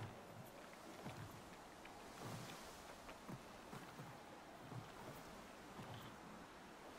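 Ocean waves wash around a boat sailing in Don't Starve: Shipwrecked, a soft, steady rush with low, rhythmic swells and faint splashes, quiet and without talk.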